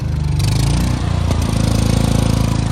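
The generator in a rebuilt Winnebago Rialta 22RC RV runs loud and close, a steady throbbing engine drone with a brief dip and catch partway through before it settles back to an even rumble.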